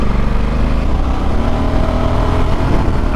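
A Honda Africa Twin DCT adventure motorcycle in manual mode, changing gears with finger buttons; a steady loud engine drone runs throughout with slight shifts in pitch, no talking.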